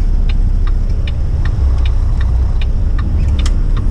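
Cab of a Mack semi truck pulling away from a Petro Canada fuel station, with a loud, steady low engine rumble and a faint repeating ticking, such as a turn signal, above it.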